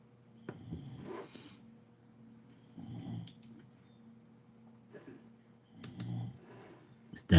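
Slow, rhythmic snoring from a sleeping dog, three drawn-out snorts spaced a few seconds apart, close and fairly quiet, ending with a sudden louder noise.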